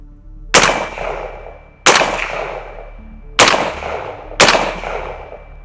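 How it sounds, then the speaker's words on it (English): Four loud rifle shots fired with a Super Safety trigger at an outdoor range, spaced over a second apart, each a sharp crack with a ringing decay and nobody talking. "So I am going to do some single shots, and then we are going to go ahead and actually do some center of mass shots"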